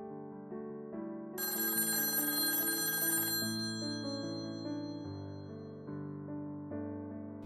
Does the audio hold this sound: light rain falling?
no